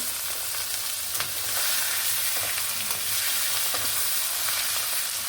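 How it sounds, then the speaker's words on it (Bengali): Tengra fish sizzle steadily while frying in hot oil for a tomato-and-potato fish dish, making a dense, continuous crackle with occasional sharper pops and faint stirring scrapes, close and fairly loud, with no talking. "এই যে মাছটা আমার ভেজে নেওয়া হয়ে গেল"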